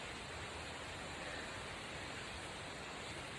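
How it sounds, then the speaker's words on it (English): Steady broadband rush of waterfalls in a natural setting with little human intervention, a continuous even roar filling the background with no voices. "You can hear the waterfalls in the background."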